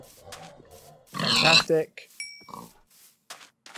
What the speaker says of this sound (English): I saw a pig. Hello, pig.